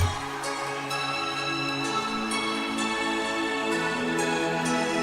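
A dense, buzzy synthesizer intro tone swells and sustains, with soft rhythmic pulses marking a slow pattern; no voices.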